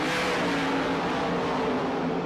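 Sprint car engines roar at full race pace at Warrnambool speedway during the 1994 Australian Sprintcar Championship, a dense continuous loud snarl with no breaks and no voices over it.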